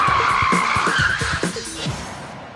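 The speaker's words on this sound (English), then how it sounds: "the fastest way to turn around is a maneuver called a forward handbrake J-turn" Car tires squeal and skid loudly through a forward handbrake J-turn, one sustained screech that wavers and fades over a couple of seconds, close and without talk.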